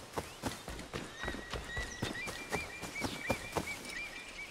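A horse in Assassin's Creed III trots with rhythmic clip-clop hoofbeats, close and steady, with a few whinnies and faint bird chirps in the background.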